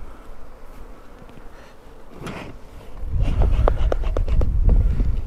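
Honeybees buzzing around opened beehive nests during an inspection of small split colonies, a soft hum that swells louder and denser about halfway through and stays close and steady to the end.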